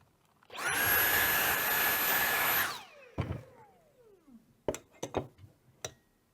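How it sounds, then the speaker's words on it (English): An OFDA 2000 fibre analyser's vacuum runs loudly for about two seconds with a high whine, clearing a fibreglass slide, then powers down and winds off, followed by several light taps and clicks. "we can also vacuum that off"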